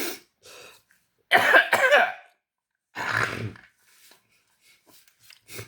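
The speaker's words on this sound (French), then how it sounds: "Oh putain, j'en tousse." Two harsh bursts of coughing, the first a rapid double cough, the second a shorter throaty one, close and loud with quiet pauses between.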